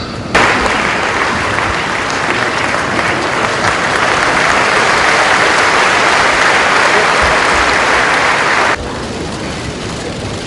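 Sustained dense applause from a large audience at a conference in India, a loud even wash of clapping lasting about eight seconds before dropping abruptly to quieter room noise.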